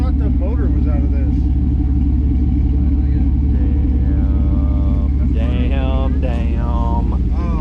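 A truck engine rumbles steadily and loudly close by, a deep continuous drone throughout, while people talk over it.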